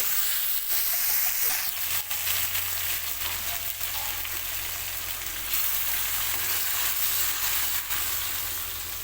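Ground cumin paste and mung lentils hitting a hot pan, setting off a loud, dense, continuous sizzle that hisses steadily throughout, close and alone without any talking.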